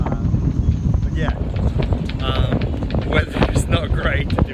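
Strong winter wind buffeting a sailboat out of the water, gusting roughly against the microphone in a constant rumble while a voice talks over it.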